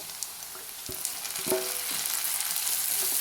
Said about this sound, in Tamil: கருவேப்பிலையை போட்டு ரெண்டு வதக்கு வதக்கிட்டு